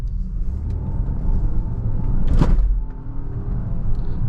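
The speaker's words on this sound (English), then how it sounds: "Let's have a quick little acceleration up this hill." A 2025.5 Volvo XC90 T8 Ultra plug-in hybrid SUV accelerates uphill with a low, muted cabin rumble and a brief thump from the road partway through.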